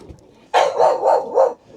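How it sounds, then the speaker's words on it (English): Dog barking excitedly aboard a boat at sea: four quick, loud, close barks in a rapid row, with no talking over them. "I've never known a dog get so excited by fish."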